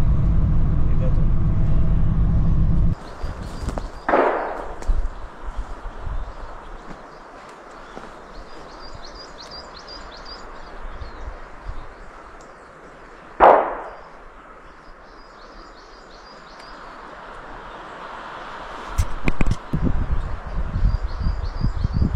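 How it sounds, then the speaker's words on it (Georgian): Gunshots ring out in the distance during a wolf hunt. Two sharp, echoing cracks land about nine seconds apart and a ragged cluster of bangs follows near the end, all over faint birdsong and a low outdoor hum. "აი გაისმა სროლები."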